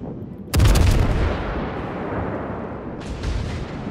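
Naval artillery from the warship Dmitri Donskoi in World of Warships fires as one loud, close, booming salvo whose rumble rolls on for seconds, then a second, lighter report follows.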